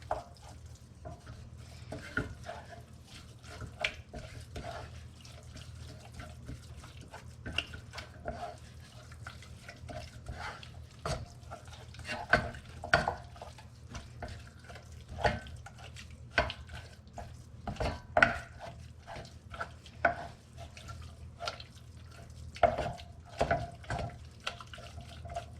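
A spoon scrapes and clicks in a bowl as a vol-au-vent filling is stirred and mixed, giving steady irregular soft taps and wet swishes close by throughout, with no talking.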